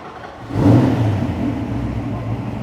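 A V8 De Tomaso Pantera revs on a paved street in Tokyo, its engine swelling into a loud, throaty roar before settling into a steady, rumbling idle.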